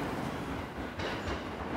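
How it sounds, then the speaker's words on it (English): A train pulls into a station on a line toward Hachioji, Tokyo, with a steady rumble and faint wheel clatter that stays fairly even throughout. "the train to go in the direction of Hachioji is arriving, because there it is"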